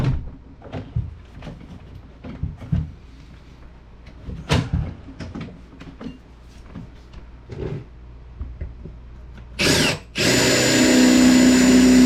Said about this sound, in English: might have to drill those out